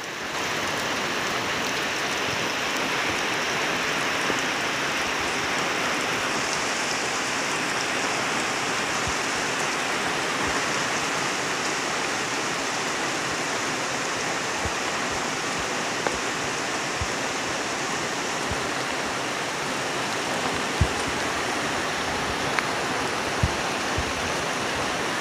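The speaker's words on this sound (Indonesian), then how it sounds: "Begitu sampai langsung hujan." Steady rain pours down outdoors in Indonesia, a dense continuous hiss with scattered drop impacts throughout, holding at an even level with no voices.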